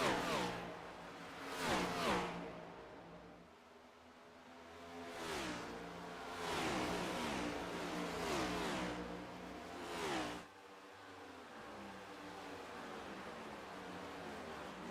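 Stock race car engines from a racing video game at Darlington, a series of quiet drones rising and falling as cars pass and accelerate, with harmonic engine whines sweeping up and fading.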